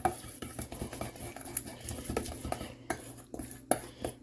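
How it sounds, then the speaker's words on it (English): A trout dish being mixed with parsley, close clinks and scrapes of a utensil against a pan or bowl in quick irregular strokes, with a light sizzle underneath. "once you give it a mix"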